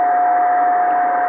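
A 10-meter amateur radio beacon comes through a receiver as a steady, continuous tone sitting in a band of hiss, loud and unbroken for the short span, with no keyed Morse gaps.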